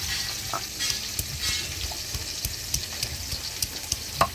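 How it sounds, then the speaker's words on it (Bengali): Bata fish frying in a pan gives a steady, close sizzle with scattered sharp pops and crackles, and no one speaks. "মাছটা ভাজা বসিয়ে দিলাম"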